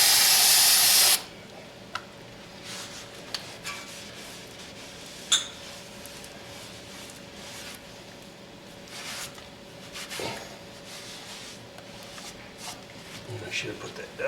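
Cleaner sprays in short hissing bursts onto the brake rotor of a Mercedes 300D, faint under a steady background hum, with a few small clinks after a louder opening noise.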